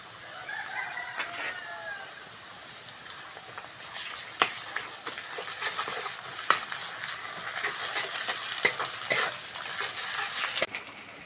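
Onion with ginger garlic paste frying in a pan in a village kitchen, with a soft continuous sizzle broken by occasional spatula scrapes and taps, while a rooster crows faintly in the background.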